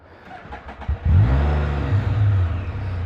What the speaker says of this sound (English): Those F3s and that rev on the start.